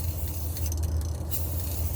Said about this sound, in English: there's the upper shock mount where you see me currently spraying